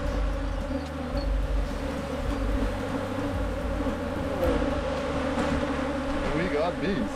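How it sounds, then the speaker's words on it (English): African honey bees swarm around opened hive boxes, a dense droning buzz that hums continuously at close range, with individual insects swelling and fading as they fly past. "We got bees."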